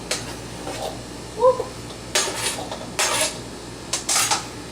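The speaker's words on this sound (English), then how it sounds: "take my radish and cucumber mixture. And mix them well" Asparagus, radish and cucumber salad tossed in a large bowl, with close clinks of a utensil against the dish and soft scrapes in short bursts between quieter moments.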